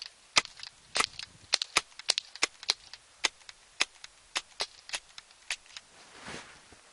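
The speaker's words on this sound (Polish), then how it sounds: "Oddam jakieś 10 strzałów." Airsoft pistol, a Beretta M9 sidearm, fires about ten sharp, snappy shots at an irregular pace, each a crisp close click-pop standing alone against near silence.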